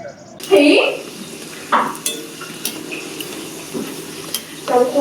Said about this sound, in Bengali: আর আমি ফুচকাগুলো ভাজছি